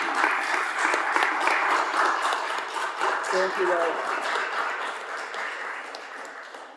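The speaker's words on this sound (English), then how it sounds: "Give a round of applause." A room of people at a city council meeting applauds a scout troop standing to be recognized, steady broadband clapping lasting several seconds, with a voice briefly speaking over it near the end.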